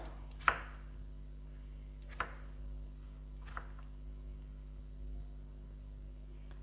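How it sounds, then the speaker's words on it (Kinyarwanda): Food being chopped with a knife during a home recipe preparation, three sharp, separate knocks spaced about a second or more apart, fairly close, over a steady low electrical hum with no talking. "tugakata gutya. Tugakatagura"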